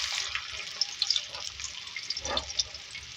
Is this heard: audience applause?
no